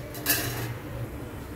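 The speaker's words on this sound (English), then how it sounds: "We'll cover the lid for another 4 to 5 minutes." A lid clinks onto a cooking pot while chana bateta is being made, a single short metallic clatter close by in a quiet kitchen.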